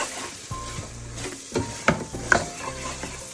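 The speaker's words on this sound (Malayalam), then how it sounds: "ഇളക്കുക." Chili, coriander and turmeric powders stirred in a hot pan for a fish curry. A steady close sizzle runs under several scraping strokes, and there is no talking.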